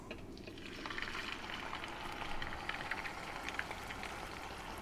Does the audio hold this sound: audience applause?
no